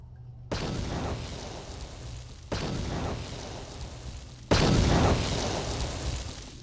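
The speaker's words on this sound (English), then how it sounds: "That was quite the blast." Three heavy explosions in a Star Wars video game, each a sudden booming blast that rumbles and fades, arriving about two seconds apart with the last one the loudest.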